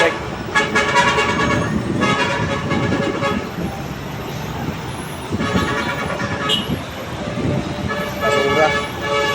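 Heavy road traffic on Commonwealth with garbage trucks, loud horn toots sounding repeatedly in bursts over a steady rumble of engines, close by, with people talking at times.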